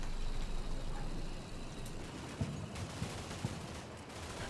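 Distant gunfire in the Combat Mission: Cold War wargame, faint scattered shots and bursts over a steady low rumble of vehicle engines, with a few sharper reports standing out.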